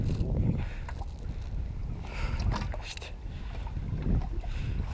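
A motorboat runs steadily on open water with wind buffeting the microphone, a continuous churning rumble heard up close with no talk.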